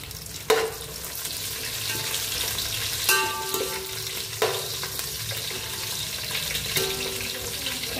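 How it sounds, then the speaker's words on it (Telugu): Green chillies frying in a pan while chicken biryani is prepared, giving a steady sizzle with a few sharp clatters and utensil knocks, plus a brief trickle of tap water in the background. "ఇప్పుడు పచ్చిమిర్చి వేసుకుంటున్నాను."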